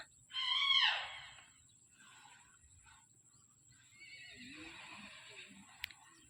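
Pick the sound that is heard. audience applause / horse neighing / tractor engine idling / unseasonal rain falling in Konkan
horse neighing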